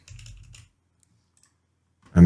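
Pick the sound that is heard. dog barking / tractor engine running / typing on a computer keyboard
typing on a computer keyboard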